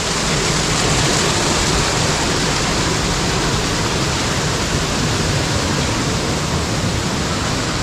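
Water pours out steadily at a rock-cut cave temple in the Konkan after heavy rain, a loud, unbroken rushing roar that fills the whole stretch with no voices.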